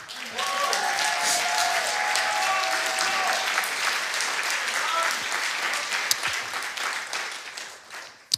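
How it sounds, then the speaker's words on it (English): A church audience applauds an assistant, a dense, steady wash of clapping lasting several seconds, with a few voices briefly audible near the start. "Can you guys give Mitchell a hand clap?"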